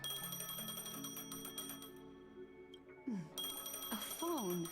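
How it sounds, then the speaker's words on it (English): A phone rings in a video game, a bright, repeating electronic tone with pauses between bursts, followed near the end by a character's voice speaking over the game sound. "A phone."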